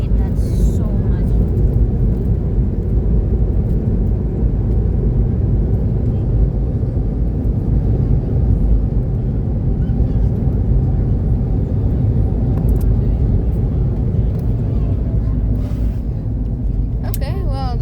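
Airbus A321neo touching down at KSEA in a flight simulator game, a steady loud engine and rolling rumble filling the whole stretch with a brief sharper noise near the end, while voices talk over it.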